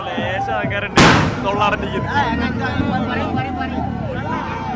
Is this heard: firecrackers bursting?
yes